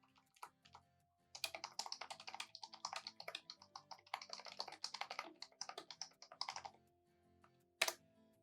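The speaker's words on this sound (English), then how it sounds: "it's so hard to type when people are watching you." Close, quiet typing on a computer keyboard: irregular rapid bursts of key clicks run steadily for several seconds, then trail off, ending with one sharp isolated clack.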